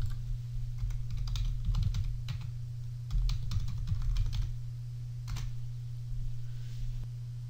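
Login credentials being typed on a computer keyboard: irregular clusters of light key clicks, close and moderately loud, over a steady low electrical hum, with a few isolated taps toward the end and no talking.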